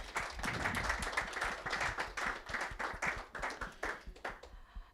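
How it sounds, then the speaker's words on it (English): Audience applause at a conference, many people clapping with distinct individual claps audible in the dense crowd sound, loud at first and thinning slightly toward the end. "One more round of applause, please."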